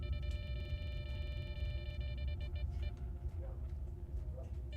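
In the video game S.T.A.L.K.E.R., a repeating electronic beep sounds in rapid bursts over a low rumbling game ambience, fading out partway through as faint background noise continues.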